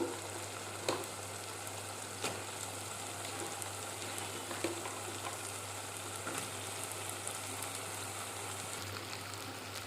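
Broad beans frying in a pan for an Andhra-style egg curry, a steady soft sizzle with faint occasional clicks of stirring, continuous and even throughout with no talking.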